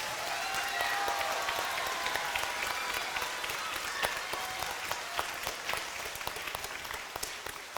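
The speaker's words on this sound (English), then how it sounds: "let's give him a round of applause" Sustained applause from a school audience at a zoo-related assembly, dense crowd clapping with occasional sharper claps standing out, steady and fairly loud throughout with no speech.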